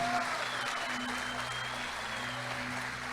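A church congregation applauding, a dense, even patter of many hands clapping at a moderate distance that holds steady for about three seconds under a faint tonal hum.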